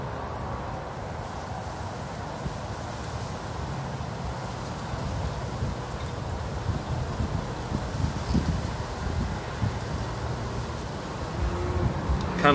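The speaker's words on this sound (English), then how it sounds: "Kind of windy out here" Wind blowing outdoors beside a highway, a constant broad rushing buffet against the microphone, gusting a little stronger toward the end, no one speaking.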